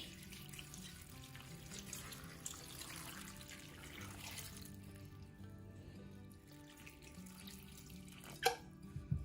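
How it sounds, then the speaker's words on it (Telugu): Water is poured over tamarind in a vessel, a quiet steady trickle with a few clinks near the end. "చింతపండు మునిగేంత వరకు కూడా నీళ్ళను పోసుకోవాలి"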